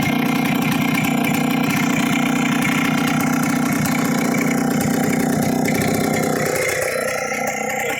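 A Minsk motorcycle engine idles steadily, a continuous loud near mechanical drone with a low throbbing pulse that holds throughout and eases slightly near the end.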